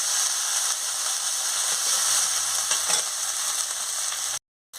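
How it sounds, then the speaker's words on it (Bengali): Masala paste with ground poppy seed and cashew paste frying in a pan for a paneer curry, a steady close hiss and sizzle with faint stirring scrapes, ending in a brief silence. "পোস্ত বাটা আর কাজু বাটা দিয়ে দিচ্ছি, দিয়ে ভালো করে মশলাটাকে কষিয়ে নিচ্ছি"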